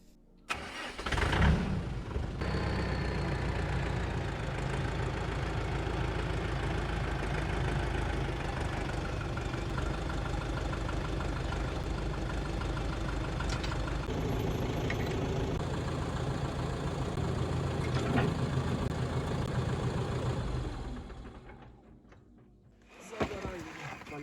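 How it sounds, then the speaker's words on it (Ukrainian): A small tractor's engine rumbles steadily at close range for most of the clip after a sharp start, then cuts off near the end with a brief restart. "тепер давайте заводимо тракторець та й підчіпляємо фрезу"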